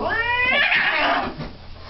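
An angry cat at the vet lets out a loud, close, wavering yowl that swells and then fades, alone and unbroken by talk.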